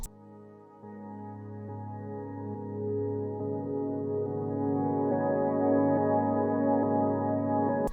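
Soft ambient synth pad run through Fruity Convolver's Blur White reverb preset, slowed to halftime with the lows cut by EQ; a smeared, sustained wash that swells gradually and stays steady, with no voices.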